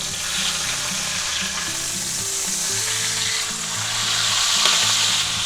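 A sous vide chuck roast seared in butter with rosemary in a hot pan, just flipped, frying with a loud, close, continuous sizzle and steady crackle throughout, no voices.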